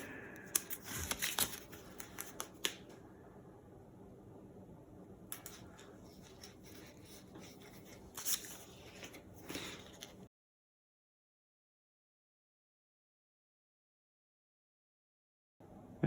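Adhesive pads being peeled from backing and pressed onto a foldable Z stand: quick close crinkles and tearing scratches come in short bursts, with light taps and soft handling noises. A stretch of complete silence follows.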